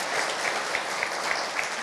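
Audience applause at an Indonesian youth talk show event, a steady wash of many hands clapping with a few sharper individual claps standing out, moderately loud and continuous throughout.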